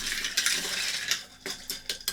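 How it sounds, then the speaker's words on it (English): A spoon stirs a gin and ginger ale cocktail with ice, ice cubes clinking and rattling against the glass in several quick bright taps, close up and clear. "Just give that a quick stir."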